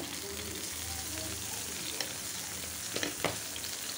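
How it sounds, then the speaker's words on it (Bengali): Spices and garlic fry steadily in a pan, giving a continuous close sizzle with a few sharper crackles and spatters near the end; a faint voice may sit underneath. "এখন একটু ভেজে নিই।"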